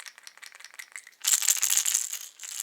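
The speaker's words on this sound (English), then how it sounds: "The Battle Rattle is the same thing. Multiple rattles." Catfish fishing rattles shake in a quick, dry clatter, softer at first, then a louder burst of bright rattling noise from multiple rattles, close and with no voices.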